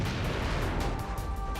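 Dense, continuous battle din from the mecha video game Steel Lancer Arena, with overlapping explosions and rapid gunfire blending into a loud, unbroken rumble for the full stretch with no speech.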